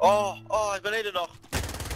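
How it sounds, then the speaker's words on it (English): Gunfire in the video game Call of Duty Warzone: a dense burst of shots breaks in at the end, after a stretch of voices talking over the game. "Shooting on John"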